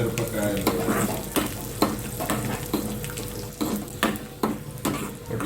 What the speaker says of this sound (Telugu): జీలకర్ర ఆవాలు వేయంగానే పల్లీలు వేసినాం అనమాట